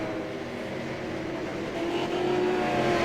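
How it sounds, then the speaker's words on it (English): Super late model race car engine at Stafford with a steady, loud drone and rising tone, its note wavering slightly near the end of the race, heard alone without speech. "You can kind of hear some stuttering from the engine, though, with 2 to go."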